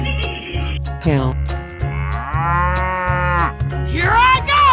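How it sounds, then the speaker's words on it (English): A cow gives a long, drawn-out moo in a 3D animal slide game, loud and close over looping background music, framed by shorter calls at the start and end. "Cow."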